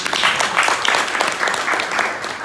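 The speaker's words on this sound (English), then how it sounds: "Clap hands for that." Conference audience at a Zim UK Business Chamber event in London clapping hands, a short burst of close, fairly loud applause from a room of people.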